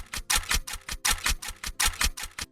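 Gun reload click samples looped back to back in a Jersey club beat, a dense run of crisp metallic clicks and snaps repeating in a fast, steady pattern with no other instruments or voices.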